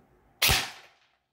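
A single sharp shot from a Rossi Neptune 10 Plus airsoft gun powered by a Gens battery, firing 0.20 g BBs during a chronograph test: one loud crack that decays over about half a second, heard alone.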